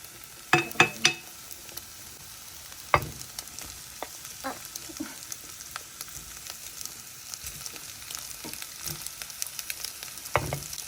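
Vegetable fried rice with egg stir-fried in a pan, a steady close sizzle broken by scattered spatula clicks and scrapes against the pan, with no talk.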